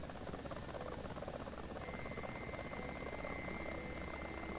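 A military helicopter in the War Thunder video game flies with a loud, continuous rotor and turbine drone, steady throughout with a faint whine rising partway through.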